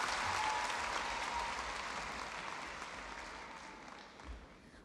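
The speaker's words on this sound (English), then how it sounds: "please give a round of applause for the Sydney and Melbourne staff songsters" Audience applause for a staff choir of Sydney and Melbourne songsters at a Christmas show: a steady, dense wash of clapping from a large crowd that fades slightly toward the end.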